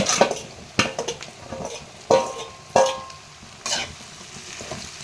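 Chopped okra is tipped into hot oil with fried onions, setting off a soft sizzle, while a spoon stirs and scrapes the pan in several sharp strokes with metallic clinks, close by.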